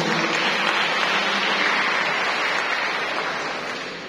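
An audience applauds a speaker at an agrarian conflict forum, steady dense clapping from a crowd that gradually fades toward the end, with no talk.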